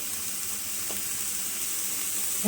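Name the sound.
ghee added to cooked colocasia greens, sizzling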